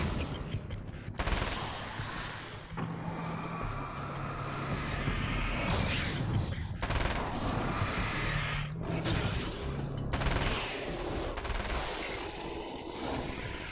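Repeated gunfire from a gun in the video game Alan Wake's American Nightmare, bursts of loud broadband shots with mechanical clanks, spread across the clip over a steady background.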